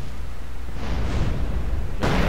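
A rocket-launcher blast tears through parked cars in GTA San Andreas, a loud, dense rumble that swells midway and hits again with a sharp burst near the end, with no talk over it.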